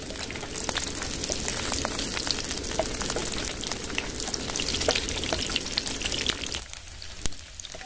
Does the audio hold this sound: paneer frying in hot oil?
yes